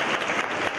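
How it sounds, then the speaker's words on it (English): Audience applause at a school leadership lecture event, a short dense burst of many hands clapping steadily and fairly close, with no voices over it. "I can't stop clapping for you"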